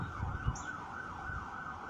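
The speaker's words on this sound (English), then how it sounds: "the sirens in the background are saying go for it" An emergency siren wails in a slow rising and falling pattern, distant and quiet in the background with a low rumble of traffic beneath it.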